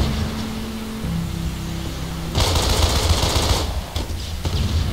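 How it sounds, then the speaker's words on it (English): Bursts of automatic gunfire in the combat game Code of Honor: The French Foreign Legion, a low rumble giving way at mid-clip to a loud, dense rattle of shots that drops off briefly and then returns. "I'm still getting shot at."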